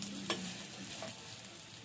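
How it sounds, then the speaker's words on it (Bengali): Cauliflower pakoras being stirred in a hot wok with fried onions: a single sharp scrape of the spatula near the start, then a steady, close sizzle. "পকোড়াটা দিয়ে এবার কড়াইতে নাড়াচাড়া দিয়ে নেবো।"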